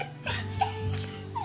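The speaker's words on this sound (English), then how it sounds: "that's my dog" Close, high-pitched whimpering and whining from a dog indoors, a few short whines in quick succession, alone without speech.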